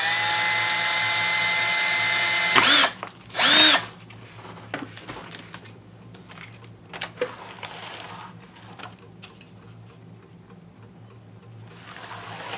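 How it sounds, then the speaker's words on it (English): A power drill pops a small hole through an altered book being made into a hidden box, giving two short loud whirring bursts close by, followed by quieter handling clicks and taps. "I'm just going to take my drill, just pop a little hole there."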